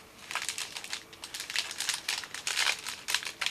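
Cellophane sheet crinkling and rustling as it is wrapped around a hand-tied tulip bouquet, a steady run of close, soft crackles lasting a few seconds without speech.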